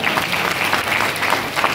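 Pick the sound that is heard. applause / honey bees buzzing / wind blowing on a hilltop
applause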